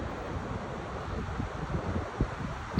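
Wind blowing hard at Turner Falls, a 77-foot waterfall in Oklahoma, a steady rushing roar with gusty bumps of buffeting against the microphone, close and fairly faint, with no talking.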